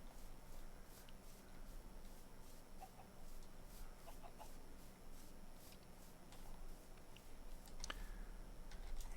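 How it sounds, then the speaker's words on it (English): Faint scattered clucks from chickens in Minecraft with the SevTech Ages modpack, spread sparsely over a low ambient hum with occasional small ticking sounds and no speech. "Horse, pigs, chickens."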